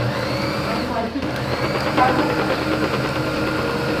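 An electric mixer whirring steadily through a homemade ice cream mixture, a loud continuous motor drone with a slight dip around the middle and no pauses.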